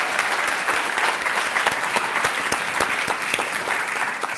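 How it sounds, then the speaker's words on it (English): Conference audience at a diabetes event applauding, a dense, sustained round of clapping from a large crowd that stays loud and even throughout. "And that's worth a round of applause again"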